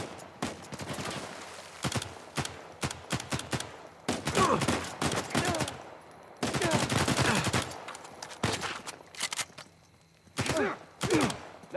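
Dense bursts of rapid gunfire ring out in a Uncharted 4 firefight, with clusters of shots and sustained automatic volleys separated by short pauses, loud and close.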